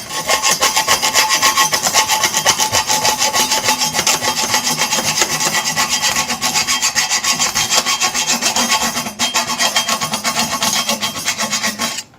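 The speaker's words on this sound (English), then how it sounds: "chop through a motorcycle frame with a very dull IKEA hacksaw" A very dull IKEA hacksaw cuts through the frame of a BMW K100 motorcycle with steady, rapid back-and-forth strokes, loud and close, grinding on without pause until the blade breaks through near the end.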